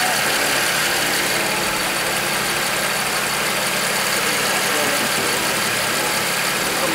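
A BMW 335i with the N54 engine and an MHD stage 2+ tune runs at a steady idle, a loud close continuous engine drone with no clear speech.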